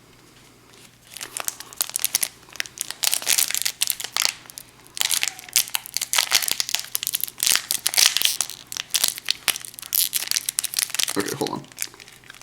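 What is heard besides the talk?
Magic card booster pack wrapper being torn open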